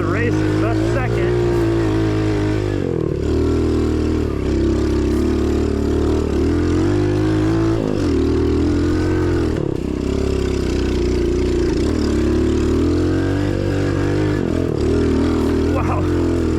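A cheap Temu dirt bike engine running with the choke on while being ridden, a loud, close, buzzing drone that rises and dips with the throttle and gear changes, with someone talking over it.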